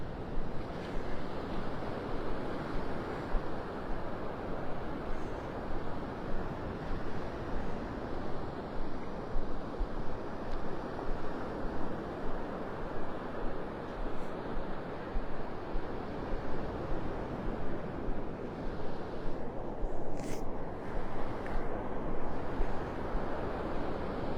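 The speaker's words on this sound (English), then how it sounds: "It feels like I have winds coming out of the northeast this morning." Northeast wind blowing across an ocean beach, a steady broadband roar mixed with the wash of surf that runs unbroken throughout, with no one talking.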